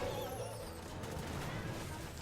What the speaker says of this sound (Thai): เราใช้ระเบิดลงไปเพิ่ม